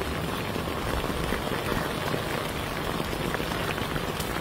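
Heavy snow and sleet coming down over the countryside of a rural settlement, a steady dense hiss of icy precipitation pattering on surfaces, continuous and fairly loud with no pause.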